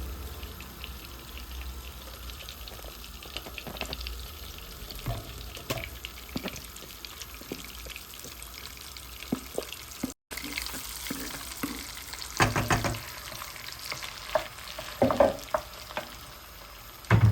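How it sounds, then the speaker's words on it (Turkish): Potatoes fry in a pan at home, a steady low sizzle running throughout, with occasional clatter of stirring and louder bursts near the end; no one speaks. "Şimdi patatesleri koyacağım."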